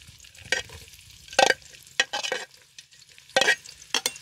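Sliced onions going into hot oil over a village wood fire for chicken pulao, with short bursts of sizzle and the scrape of stirring coming in intermittent clusters, close and fairly quiet, no voices.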